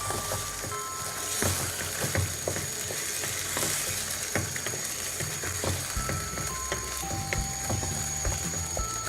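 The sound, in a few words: stirring chicken curry with yogurt in a frying pan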